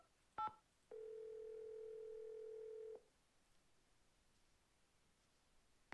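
A telephone in the Nancy Drew video game, heard as two quick dialing beeps followed by a steady dial tone that holds for about two seconds and then cuts off, leaving near silence.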